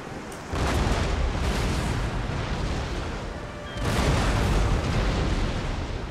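Ship cannons in the Empire Total War video game fire chain shot in a naval battle, a dense roll of booming blasts that swells into a louder barrage midway, with no one talking.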